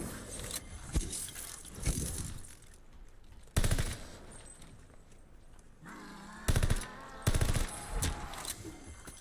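Automatic weapons fire in the Call of Duty Vanguard zombies mode comes in several short, loud bursts spread across the moment, with quieter rattling game sounds between them.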